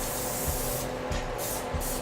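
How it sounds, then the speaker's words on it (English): Pam cooking spray hisses onto a baking pan in several short bursts, fairly quiet and close, with no one talking. "we're just going to spray a little Pam on there"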